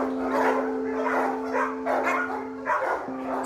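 Dogs at a Marseille animal shelter bark and yelp repeatedly in a rough, overlapping chorus, with a steady electrical hum running beneath the noise.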